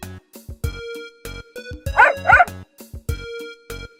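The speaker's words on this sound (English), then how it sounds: "The letter D stands for dog" A cartoon dog barks twice in quick succession from a children's picture-book story about hats, a short close yip-like pair set among soft musical notes.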